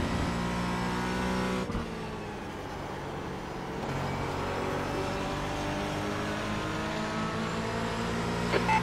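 McLaren GT4 race cars lapping Watkins Glen in a racing game, a steady loud engine drone that rises and shifts pitch through gear changes, with no talk over it.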